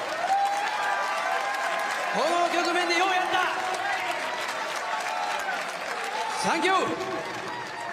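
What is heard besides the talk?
audience applause for boxer Casimero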